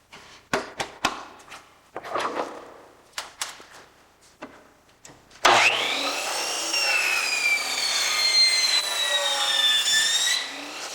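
Wood being cut for an electric fireplace enclosure: a few scattered knocks and scrapes, then a power saw starts abruptly and runs loud and continuous for the rest of the clip.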